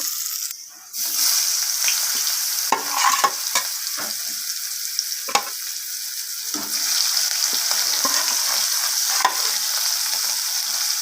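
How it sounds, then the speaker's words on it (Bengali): Pieces of rohu fish fry in hot oil in a pan, giving a steady close sizzle with scattered sharp crackles and pops throughout. "এরপর আমি বাকি মাছগুলোকেও আবার একইভাবে ভেজে নেব।"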